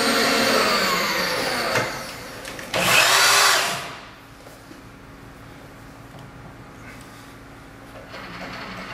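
A milling cutter with inserts runs at 1600 RPM, cutting metal for a lathe toolpost plate. A steady mechanical whine swells into a loud, harsh cutting surge, then drops back to a quieter running hum.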